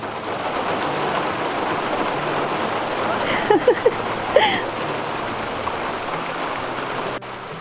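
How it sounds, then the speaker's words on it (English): Steady broadband hiss of heavy rain building outdoors, with a few brief close clicks and bumps partway through. "You can hear the heavy rain coming."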